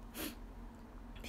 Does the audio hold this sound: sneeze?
yes